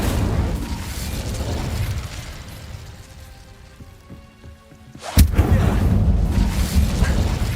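Glacius and Incendio spells cast in the Hogwarts Legacy video game: a steady rain-like rushing wash fades to a quiet, then a sharp burst erupts and turns into a loud roaring crackle that carries on to the end.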